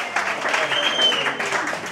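Audience applause at an evening Greek folk music show with bouzouki and guitar, a short burst of clapping under talk.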